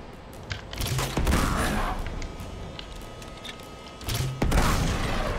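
Gunfire in the video game Uncharted 2: Among Thieves, heavy booming shots and a sustained burst of fire with rumbling game effects, loud and close.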